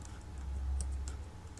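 Light clicking of computer keyboard keys while entering a Power BI DAX formula, a few scattered soft taps over a faint low background hum.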